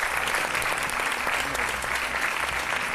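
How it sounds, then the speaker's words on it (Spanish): Studio audience at a Spanish debate show applauding steadily and densely, a continuous close clatter of many hands with no pauses. "Así que, Aitor, un aplauso para él."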